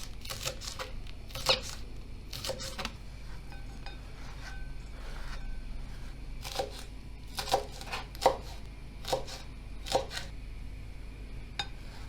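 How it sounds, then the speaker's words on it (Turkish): Sharp knife taps on a cutting board as garlic is chopped, coming in irregular clusters of quick strikes with brief pauses, close and fairly quiet. "Ben sarımsakları da şöyle elimde küçük küçük doğruyorum."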